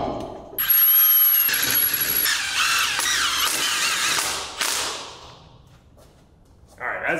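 A power tool runs in a loud, sustained whirring burst of a few seconds while mounting a wheel on a C6 Corvette competition drift car. It tapers off, then a short clatter follows, close to the microphone.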